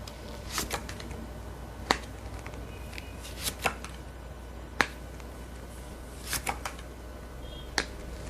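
Tarot cards being shuffled and handled, soft papery rustling broken by a handful of sharp, crisp slaps and flicks spaced irregularly, close and quiet with no talk.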